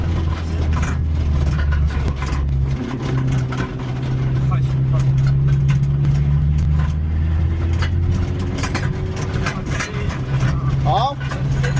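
Peugeot 206 WRC with a turbo diesel engine, driven across a Moroccan desert: a steady low engine rumble with rattles and bumps throughout, and people talking over it.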